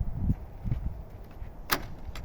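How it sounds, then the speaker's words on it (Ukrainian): A greenhouse door frozen stiff at minus twenty degrees is forced open in winter: a few dull low knocks and thuds, then one sharp crack as it breaks free, close by. "Бачите, прихватило аж двері трішечки."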